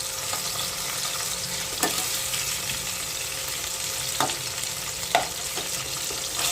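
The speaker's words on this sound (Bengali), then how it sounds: "ইলিশ মাছগুলোকে ভালো করে ভেজে নিতে হবে।" Hilsa fish frying in oil in a pan, a steady close sizzle with scattered pops and a few brief utensil knocks.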